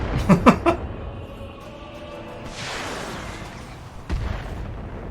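Missile salvo from a mech in the RogueTech mod of BattleTech: a quick cluster of three sharp launch pops, then a long whooshing rush of rockets and a heavier impact boom near the end.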